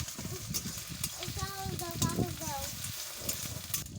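Onions fry in a pan ahead of chopped tomato, sizzling and crackling steadily up close with stirring scrapes, while a person talks over the cooking.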